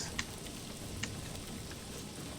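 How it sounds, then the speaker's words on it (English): Steady rain falling through a forest at night in the video game Oblivion, a constant soft hiss with a couple of brief sharper drips, fairly quiet and without voices. "Just walking through a forest at night in the rain and stuff."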